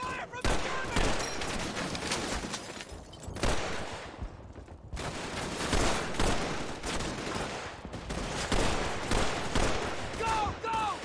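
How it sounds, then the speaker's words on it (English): Sustained German gunfire in a World War II Call of Duty 3 battle, rapid overlapping rifle and machine-gun shots crackling loud and constant, briefly thinning mid-stretch, with shouted voices mixed in. "We're taking a lot of fire from the Germans!"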